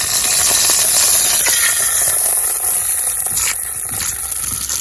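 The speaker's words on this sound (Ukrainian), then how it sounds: "Масло вже закипає, причить" Cooking oil heating and sizzling in a pot lid used as a frying pan on a homemade camping stove, a continuous crackling hiss with occasional pops and scrapes, close and fairly loud.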